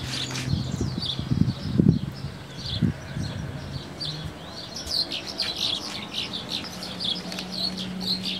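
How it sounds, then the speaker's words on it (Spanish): A small bird sings outdoors in San Pedro with quick, repeated high chirps and tweets that run through the whole stretch, moderately faint over a low rumbling background and some scattered knocks. "Es una de pajarito."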